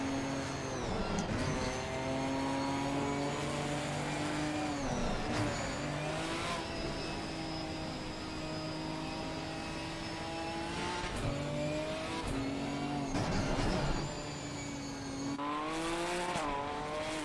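A Ginetta GT4 race car engine in the racing game Assetto Corsa Competizione, lapping Donington Park, roars through repeated upshifts and downshifts, its pitch climbing and dropping steadily throughout without speech.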